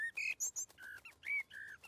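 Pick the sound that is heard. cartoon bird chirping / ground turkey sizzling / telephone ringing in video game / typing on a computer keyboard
cartoon bird chirping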